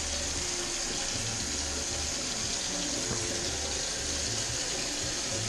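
Running water rinses a copper lamp shade being cleaned, a steady, even splashing stream that holds at a moderate level for several seconds with no talk.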